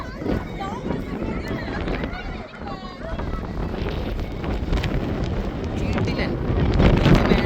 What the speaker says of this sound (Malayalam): ചെറിയൊരു ചാമ്പൽ മഴയുണ്ട്, അതുപോലെ നല്ല കാറ്റുണ്ട്